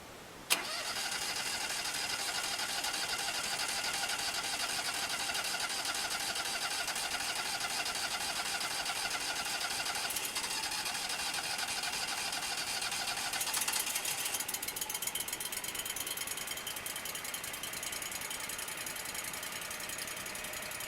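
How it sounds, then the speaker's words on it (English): A sawmill engine, idle for months in deep winter snow, cranks briefly and catches, then runs steadily at a loud, even mid-pitched drone that shifts slightly in tone near the end, with no voices. "The sawmill started right up. It took a little bit of time to crank over"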